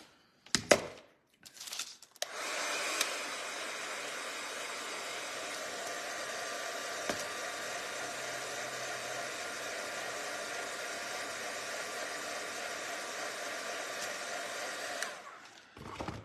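A hair dryer runs for roughly twelve seconds, steady and close, drying a ball of yarn for a craft room decor project, after a few brief handling clicks and knocks at the start.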